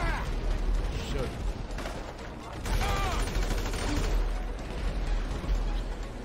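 Rapid bursts of gunfire and explosions from a shooter video game fill the whole stretch at a steady, busy level, with a player's voice talking over the battle noise.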